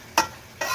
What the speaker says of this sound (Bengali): বরবটিটাও বলক এসে গেছে, একটু নেড়ে দিব।